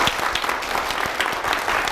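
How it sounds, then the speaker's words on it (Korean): A church congregation breaks into loud, sustained applause, with dense overlapping claps filling the hall and no speech on top. "한번 이 가정을 위해서 큰 박수 부탁드리겠습니다"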